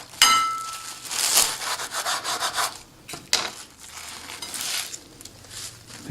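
Knife roughly chopping wilted spinach leaves on a board, rough scraping and rustling strokes in uneven bursts with a few sharp knocks, close and fairly loud with no talking.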